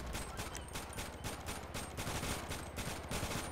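Rapid gunfire in GTA 5 Online comes as a fast, evenly spaced stream of shots that runs unbroken and fairly quiet, with no voices over it.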